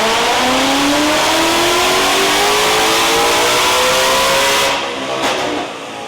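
A 2020 Mustang Shelby GT500 with a custom tune revs hard through a full dyno pull. The loud engine note climbs steadily for about five seconds, then cuts off sharply and fades to a lower rumble.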